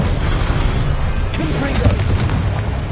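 A Confringo blast spell in the video game Hogwarts Legacy, heavy booming explosive bursts and rumbling impacts layered together over a dense battle din, loud and continuous for a few seconds.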